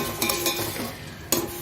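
A spoon scrapes and stirs chopped tomato into beef frying in a pot, with a few sharp clinks against the metal over a faint sizzle, close and fairly quiet.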